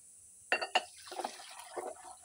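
Dishes being washed in river water, with a few close splashes and clinks of crockery, then softer trickling and dripping against a steady rushing background.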